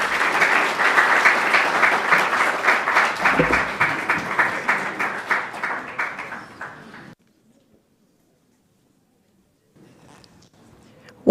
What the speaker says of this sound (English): One more round of applause for our keynote speaker, Right Honorable Moka Balisa